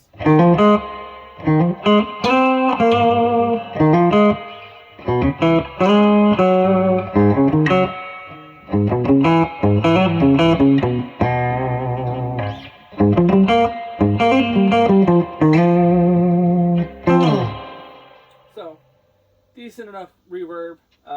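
An electric guitar plays through the clean channel of a Randall RH100 G2 amp head with the reverb turned high, loud chordal phrases that ring and decay, ending in a long reverb tail.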